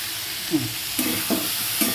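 Tomato dropped into a spice paste frying in a pan for a Bengali rui fish curry with ridge gourd and potato, a steady sizzle punctuated by several short stirring scrapes.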